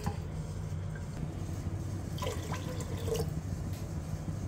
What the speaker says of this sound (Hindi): अब इसमें पानी डालना, पानी कंसिस्टेंसी को चेक करके डालना।